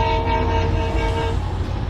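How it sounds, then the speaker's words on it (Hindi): A train horn blares continuously near and loud at boys standing on a railway track outside Indore, a steady sustained tone over the deep rumble of the approaching train. "ड्राइवर बार बार इन लड़कों को ट्रैक से हटने के लिए हॉर्न बजाता है"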